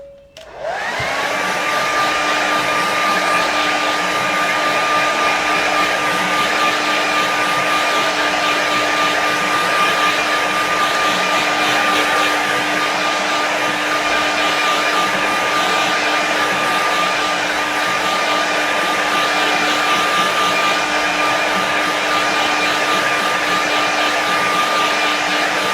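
A hair dryer switches on and blows steadily at close range to dry a loose watercolour painting of a lakeside scene. Its loud, unbroken whirring hum with a constant whine lasts throughout, and no one speaks.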